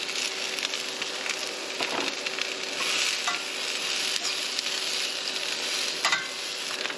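Shallots, garlic and mushrooms fry in a pan on a camp stove in a winter van. A steady close sizzle carries on throughout, with occasional scrapes and stirring clatter.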